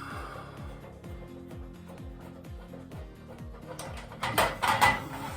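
Repeated ratcheting clicks from a tool loosening screws on a garage light fitting, steady evenly spaced strokes up close, followed by louder clattering handling noises near the end.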